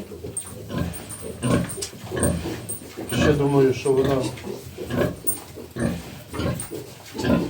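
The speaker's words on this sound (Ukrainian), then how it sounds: "Поросят вечеря." Piglets on a Ukrainian farm grunt and squeal at evening feeding, a close, irregular run of snorts and oinks mixed with clattering, while someone talks over them.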